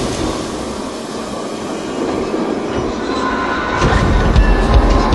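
A train between Perth and Kalgoorlie, Western Australia, rumbles along steadily with broadband rail noise, growing louder toward the end as it passes close by.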